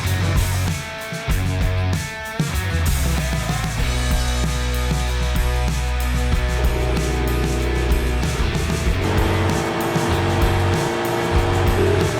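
Several adventure motorcycles pull away together on an off-road hill, their engines a loud, sustained drone that rises and shifts in pitch as they move off, with no talk over it.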